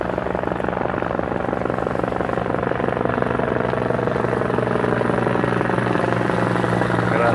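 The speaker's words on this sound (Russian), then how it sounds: "вертолет вот идет." A police helicopter passes over Konyaaltı beach in Antalya, Turkey, its steady rotor chop and engine drone loud and close throughout.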